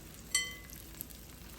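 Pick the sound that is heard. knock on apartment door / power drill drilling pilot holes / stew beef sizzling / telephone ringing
stew beef sizzling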